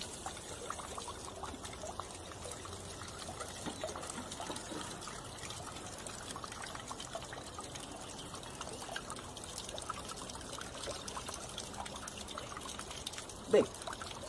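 Water from a very heavy simulated rain runs off bare soil in a steady, faint trickling and pouring wash that stays even throughout, with a brief louder knock near the end and no clear talking.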